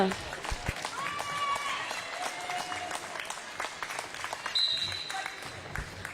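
A crowd at a roller derby match applauds the referees, a diffuse wash of distant clapping in a large hall, partly under an announcer's voice over the loudspeakers.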